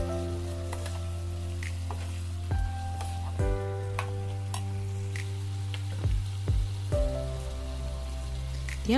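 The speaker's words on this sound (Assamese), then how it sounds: "এইখিনি এতিয়া ধুনীয়াকৈ লৰাই ভাজি ল'ম" Onions stir-frying with garlic ginger paste in a pan for chicken biryani, a steady close sizzle with scraping stirs at intervals.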